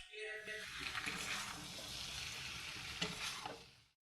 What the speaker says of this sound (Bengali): আগে থেকে ভেজে রাখা আলু, পনির ও ক্যাপসিকামের টুকরোগুলো দিয়ে দেব। এবার সমস্ত উপকরণগুলো ভালোভাবে নাড়াচাড়া